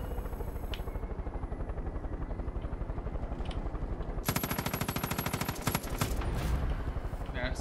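Helicopter rotor thumping in Far Cry 5, steady through the clip and loud, with a dense burst of machine-gun fire in the second half.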